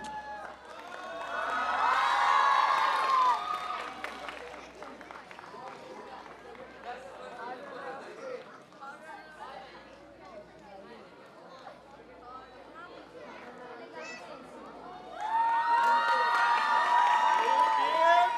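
An audience at a school singing contest, the Prerana School Singing Idol in Bharatpur, breaks into two loud bursts of cheering and clapping, one near the start and one at the end, with an announcer speaking in between.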